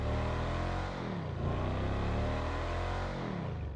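Benefactor Schafter V12 sedan engine revving in GTA Online, a loud, continuous close engine roar whose pitch climbs and falls through several rev sweeps, with no voices over it.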